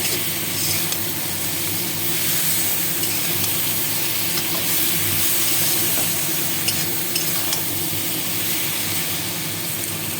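Turmeric and salt fry in a pan for a vegetable stew, giving a continuous, even, close-up sizzling hiss that holds steady throughout with no voices.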